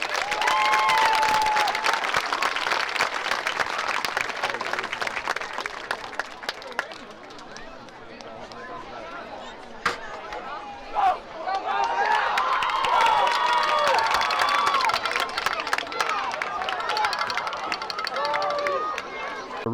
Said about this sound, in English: Let's give all of these young people a huge round of applause.